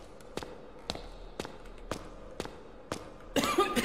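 A character in the horror video game Night Security coughs repeatedly, about seven short dry coughs spaced roughly half a second apart at moderate level, followed by a louder burst of noise.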